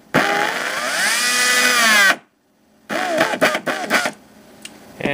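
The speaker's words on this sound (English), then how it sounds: "I'm going to use a cordless drill." Cordless drill motor picked up through an electromagnetic guitar pickup box: a loud, electric whine that rises in pitch for about two seconds, cuts out, then returns in choppy, stuttering bursts as the trigger is pulsed.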